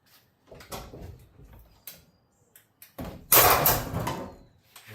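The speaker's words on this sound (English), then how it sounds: "Now we're just going to pull up on the door over here." An Electrolux dryer door being pulled up and shifted during a repair produces a few scattered knocks and scrapes, then a louder rattling clatter near the end, with quiet gaps between.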